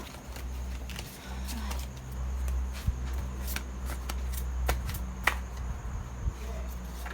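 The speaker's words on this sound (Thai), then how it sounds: "สับไพ่แบบ ลำบากยากเห็นเหลือเกิน" Tarot cards being shuffled by hand, a steady papery riffling with a few sharper flicks and taps, fairly quiet over a low background hum.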